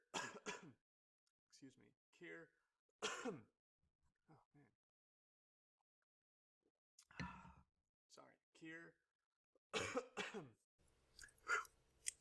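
Several coughs and throat-clearing sounds, close and intermittent, separated by quiet gaps.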